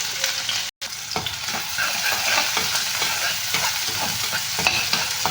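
Chopped onions frying in hot mustard oil with whole cumin and whole garam masala: a steady, dense sizzle and crackle of oil with occasional stirring scrapes, continuous and close, briefly cut by a short dropout.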